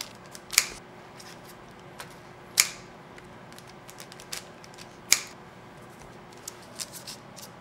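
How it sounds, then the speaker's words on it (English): Scissors snip through sausage bread dough, three sharp, close cuts spaced a couple of seconds apart, with softer handling clicks and rustles in between and no talk. "one sausage, you just cut it by scissors and then make it nice kind of pattern"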